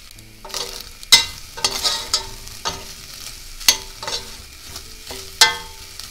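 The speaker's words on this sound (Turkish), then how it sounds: "Şöyle bir hafif bir iki daha böyle kavuracağım." Chicken gizzards are dry-sautéed in a pan before oil is added, a light sizzle broken by repeated scraping stirs and clacks of a utensil against the pan, close and without talk.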